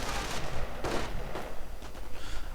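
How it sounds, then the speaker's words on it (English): Infantry come under sniper and rifle fire in a real-time strategy game, with loud overlapping gunshots and crackling volleys in a dense, continuous battle din and no speech. "Volksgrenadiers getting sniped."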